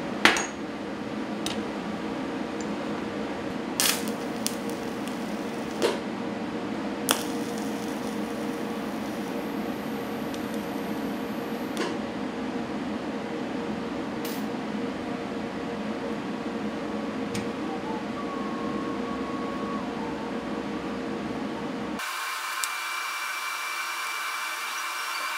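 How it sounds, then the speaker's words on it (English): Welding on a steel yard trailer frame gives a steady, crackling hiss with occasional sharp pops that runs for over twenty seconds before giving way to a different, thinner hiss. "And I'm just gonna weld it in place."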